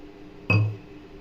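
A single bright clink rings out against a bowl as sugar and water are mixed for syrup for motichur laddu, then fades quickly in a quiet kitchen.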